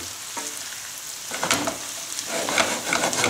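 Nuts toast in a pan over medium heat, a soft continuous sizzle close by with stirring scrapes and small crackles growing busier toward the end, no talking.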